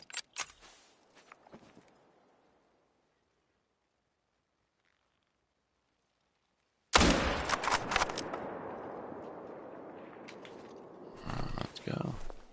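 A hunting rifle fires at a moose in a PS5 hunting game: a sharp shot at the start and a few lighter clicks, then near-silence, then a loud burst of gunfire with a long echoing tail and more crackling shots near the end.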